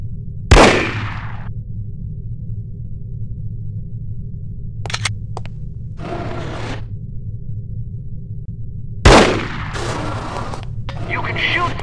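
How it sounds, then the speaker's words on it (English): Gunfire in the PC shooter No One Lives Forever: two loud sharp shots ring out several seconds apart, with a couple of quieter clicks and shuffles between them over a steady low game hum; speech is faintly present. "You can shoot through certain walls and objects."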